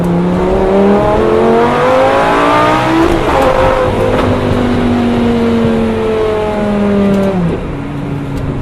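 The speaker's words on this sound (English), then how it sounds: "Just downshifts in this car." A Lamborghini engine revs hard through a series of downshifts, each drop in gear bringing a sharp rise and fall in pitch. It sounds loud and close throughout, with no talking.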